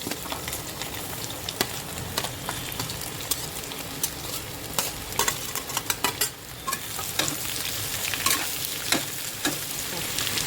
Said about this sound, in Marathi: सासाम पटपटेले आता हांव पियाव घालता